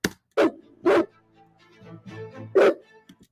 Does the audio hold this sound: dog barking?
yes